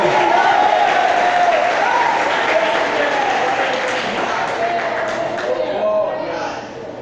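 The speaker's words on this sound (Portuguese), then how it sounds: "Aplauda Jesus de Nazaré" A church congregation applauding during a Sunday morning worship service, a broad, steady roar of clapping and voices that fades slightly near the end, with a voice carrying over it.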